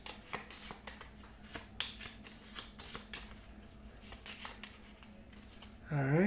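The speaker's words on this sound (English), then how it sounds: "Shuffle them up." Board game cards from a Lovecraft-themed game shuffled by hand in a series of quick crisp riffles and soft slaps, close and fairly quiet, with a louder rustle at the end.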